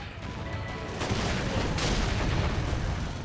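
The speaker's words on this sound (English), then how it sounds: "Now, topple them with some gunfire." Dense, continuous gunfire rumbles and booms in the video game Xenoblade Chronicles X Definitive Edition, a sustained barrage of shots with no talking.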